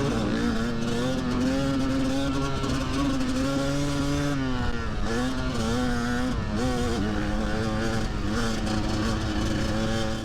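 Kawasaki KDX 200 two-stroke dirt bike racing in the 10 Hours of Glen Helen, its engine loud and close throughout, pitch rising and falling with repeated revving and gear changes, no talking.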